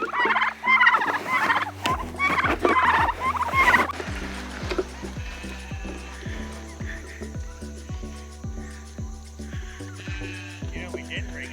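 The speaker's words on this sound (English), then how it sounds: "All of our turkeys are all puffed up." Domestic turkeys gobbling loudly near a barn build, bursts of rapid gobbles followed by a quieter stretch of repeated low clucks and calls.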